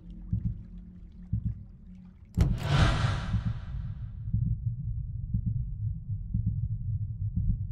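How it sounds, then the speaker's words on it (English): Low, steady thumping heartbeat effect in the horror video game Witch Hunt, pulsing rhythmically throughout, with a sudden loud splash-like burst partway through before the beat continues. "Will the heartbeat go faster when it's even closer?"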